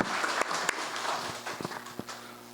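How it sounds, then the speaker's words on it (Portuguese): Applause in a municipal council chamber in session, a short burst of scattered clapping from a modest audience with uneven, irregular claps, moderately quiet and not very dense. "Peço aqui uma salva de palmas pela aprovação do projeto."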